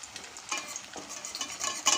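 Noodle lollipops fry in hot oil with a continuous bright sizzle and crackle, broken by soft bursts of bubbling, close and fairly quiet with no talking.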